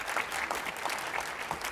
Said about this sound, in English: we need to give Conway Collis a round of applause